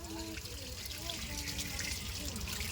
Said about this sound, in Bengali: তিশানি ধুয়ে নাও ভালো করে ধুয়ে নাও